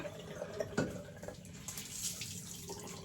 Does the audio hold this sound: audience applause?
no